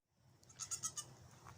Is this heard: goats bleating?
yes